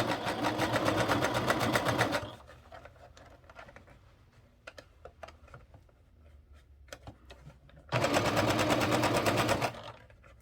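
A sewing machine stitches a reversible bucket hat in two loud, fast, steady runs of rapid needle chatter, separated by a quieter stretch of scattered clicks and handling noises, close by, with no talking.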